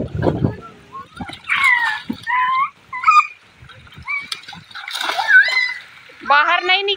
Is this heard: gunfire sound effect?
no